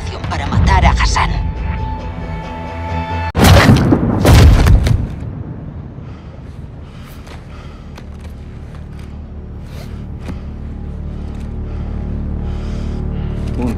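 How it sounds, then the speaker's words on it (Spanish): A loud gunshot boom from the video game Modern Warfare 2, heard in a Spanish-language version, rings out twice amid game sound, followed by a low rumbling background bed. "Un disparo perfecto, teniente."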